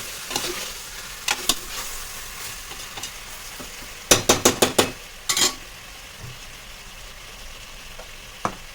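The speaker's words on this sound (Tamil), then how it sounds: "சிக்கனை சேர்த்துட்டு நல்லா கிளறிக்கலாம்." Chicken is stirred in a pot of hot oil while cooking Arabian mandi, with a steady sizzle beneath sharp clustered scrapes of a spoon against the pot, including a quick run of five strokes midway.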